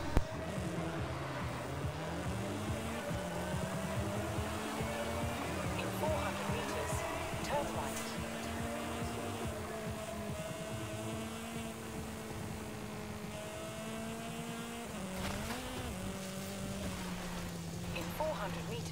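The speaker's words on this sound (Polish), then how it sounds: "Jaki fajny dźwięk silnika tu jest." Car engine in a driving video game drones steadily throughout, its pitch rising and falling smoothly as the car accelerates and shifts, with a brief dip and surge midway.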